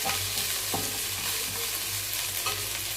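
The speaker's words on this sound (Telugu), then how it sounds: "ఇక్కడ పుదీనా కూడా ఫ్రై అయిపోతుంది." Mint leaves fry in a pan alongside marinated prawns, making a loud, steady sizzle with occasional light scrapes from stirring and no voices.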